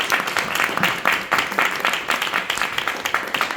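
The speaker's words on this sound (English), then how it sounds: "Let's hear some applause for John McCarthy." An audience applauds at an evening gathering at a history center, steady crowd clapping with rhythmic bursts sustained throughout, fairly close and full.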